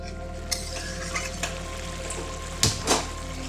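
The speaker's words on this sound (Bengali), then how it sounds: "এই জলেই এটা আমি সেদ্ধ করে নিচ্ছি।" Young jackfruit simmers in a small amount of hot water in a covered pan, giving a steady low bubbling hiss with faint clinks and two sharper lid or utensil knocks near the end; no one talks.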